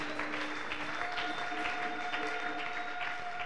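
A church congregation claps in applause, a soft, dense patter that holds steady for a few seconds over faint sustained musical tones in the background.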